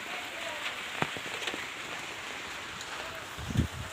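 Steady rain falls during a storm, a dense even hiss throughout with a few brief louder knocks and a low thud near the end, no voices.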